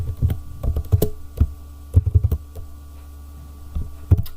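Code being typed on a computer keyboard, with irregular bursts of soft keystrokes, a pause in the middle and a few final taps over a low steady hum.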